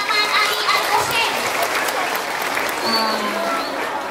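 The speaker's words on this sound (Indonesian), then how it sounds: "Tepuk tangan untuk Muhammad Alif Al-Musin." An audience of children and adults applauds a young boy on stage, a loud, sustained wash of clapping with crowd murmur and children's voices mixed underneath.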